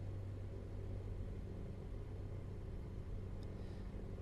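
An FK9 Mark 4 microlight's engine, throttled back to 3,000 RPM in flight, drones as a steady low rumble with constant loudness and no pauses.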